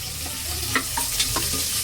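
Onions for pulao sizzle in a hot pan with a steady close hiss, broken by a few light clinks and scrapes of a stirring spoon.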